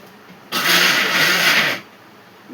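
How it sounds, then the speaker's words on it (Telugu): A kitchen mixer grinder whirs as it grinds garlic, onion and cumin masala into a paste, one loud steady burst of about a second and a half that starts and cuts off abruptly. "మిక్సీ పట్టుకుంటే కూర గుజ్జుగా బాగుంటుంది అన్నమాట. అందుకనే మిక్సీ పడుతున్నాను."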